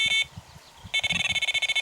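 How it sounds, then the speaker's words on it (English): A Delkin electronic fishing bite alarm beeping at a fen pit: a short tone burst, a pause, then a rapid run of about a dozen sharp, loud beeps close by. "I'm using Rise Delkin as the alarm"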